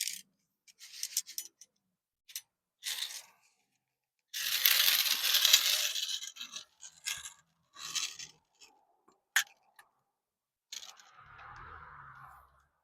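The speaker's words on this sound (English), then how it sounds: "undoing the screws right over top the magnetic bowl" Screws being undone from an antenna during take-down and dropped into a magnetic bowl, heard up close as scattered metallic clinks and scraping rubs in separate bursts, with a longer rasping stretch midway and quiet gaps between.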